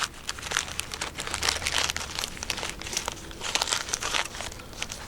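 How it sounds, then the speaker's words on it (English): Dry sticks crunch and crinkle close by as they are packed into a rock crevice outdoors in a wooded park, a steady run of brittle snapping and rustling bursts with no talk. "I'm gonna plug it up a little bit with some sticks"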